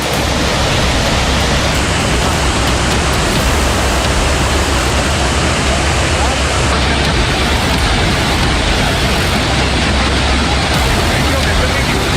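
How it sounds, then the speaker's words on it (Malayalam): Swollen river in Himachal Pradesh rushing after heavy rain, a loud, unbroken roar of churning water filling the whole clip without any pause. "ഹിമാചൽ പ്രദേശിലെ മഴയ്ക്ക് പേടിപ്പിക്കുന്ന ഒഴുക്കാണ്"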